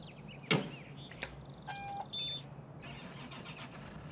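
A John Deere tractor with a front loader and shuttle, running in Farming Simulator 2013, gives a sharp click and then a low, steady engine hum, with short electronic beeps over it.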